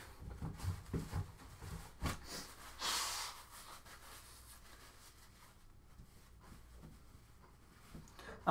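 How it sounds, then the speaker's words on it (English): A person blows their nose with a short burst of snorting air, followed by quieter breathing, rubbing and small handling noises nearby. "Let me blow my nose real quick."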